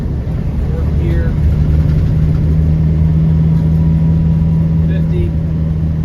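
A 1997 Land Rover Defender 90 with a 300Tdi diesel engine cruises in fourth gear, a steady low engine drone with road rumble running throughout, loud and close, while someone talks over it.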